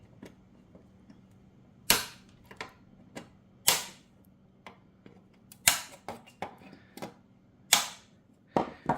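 Sharp snips as the ends of warm, freshly welded plastic are cut off, with about seven crisp cuts at uneven intervals over a quiet low hum, close and clear.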